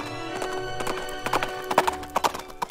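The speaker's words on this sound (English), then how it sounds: "He made his horse gallop all the way." Horse galloping, with steady hollow clip-clop hoofbeats in a quick rhythm that grows louder and sharper toward the end, heard close over a faint background hum with no talking.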